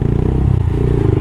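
Close, steady idle of a TARO GP1 motorcycle engine and exhaust, a low pulsing rumble heard alone for a brief moment.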